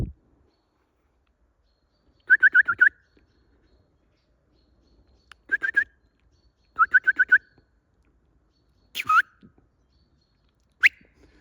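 Short bursts of high chirping birdsong ring out several times in a forest with quiet pauses between, plus a couple of sharp single whistled notes, distant and clear.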